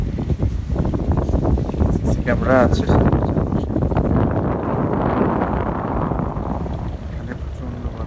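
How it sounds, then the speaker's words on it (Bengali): Strong wind buffets the microphone as a boat travels from Sadarghat to Chandpur, a steady loud roar and rumble running throughout while a person talks over it. "এখানে প্রচন্ড বাতাস"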